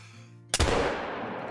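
A single loud muzzleloader shot fired at a buck in the hunting video game Call of the Wild, a sharp blast after quiet ambience followed by a long rolling echo that fades slowly.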